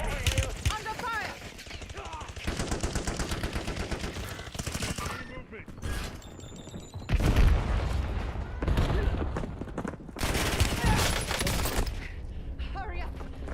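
Bursts of automatic gunfire and heavy blasts in Call of Duty Warzone, loud and clustered with short gaps between volleys, while a player talks over the battle.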